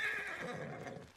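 Kage, the horse in the video game Ghost of Tsushima, lets out one close, clear whinny that trails off over about a second, with no talk over it.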